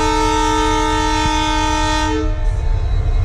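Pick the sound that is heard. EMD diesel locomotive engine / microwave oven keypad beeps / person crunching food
EMD diesel locomotive engine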